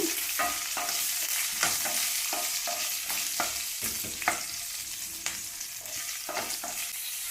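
Onions frying in a pan for aloo palya, a bright continuous sizzle broken by frequent stirring scrapes and taps of a spoon, close up with no talking.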